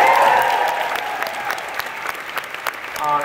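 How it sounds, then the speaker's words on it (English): Audience at a DragonCon convention panel bursts into applause, a dense wash of clapping that starts loud and thins slightly before swelling again at the end. "Give it a clap."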